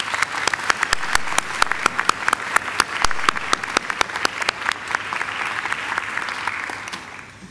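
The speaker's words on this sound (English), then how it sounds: "Ladies and gentlemen, please join me in giving them a round of applause." An audience applauds graduates at a university graduation ceremony, a steady sustained wave of many hands clapping that fills the hall and tapers slightly toward the end.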